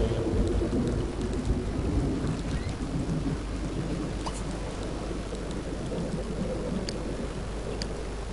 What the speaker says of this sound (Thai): ฝนฟ้าร้อง